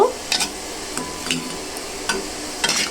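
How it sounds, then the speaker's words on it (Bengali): Papads frying in hot oil make a steady soft sizzle, with a few brief scrapes and clinks as they are turned in the pan. "পাঁপড়গুলো এরকম করে ভেজে নিয়ে এখন তুলে নেব"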